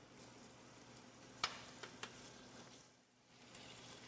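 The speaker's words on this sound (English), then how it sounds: "We're going to sear the shrimp." Shrimp searing in butter and oil in a hot pan for paella, a steady soft sizzle running throughout with a few brief sharp pops and crackles.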